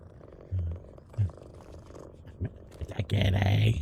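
A cat purrs when petted in the video game PowerWash Simulator 2, low rumbling bursts near the start and a longer purr at the end, with a person talking in between.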